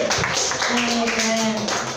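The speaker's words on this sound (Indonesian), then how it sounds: "Tepuk tangan dulu untuk 9C" A class of students in a school classroom clapping hands together, a dense continuous wash of applause with voices mixed in throughout.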